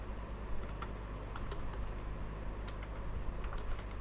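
Steady, fast typing of Java code on a computer keyboard, close and continuous key clicks over a low electrical hum, with no talking.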